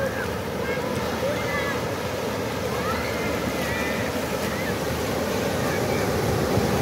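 Heavy surf rolls in at the beach at Jeffrey's Bay, a steady broadband roar of large ocean waves washing close by, with wind buffeting the microphone throughout and no clear talk.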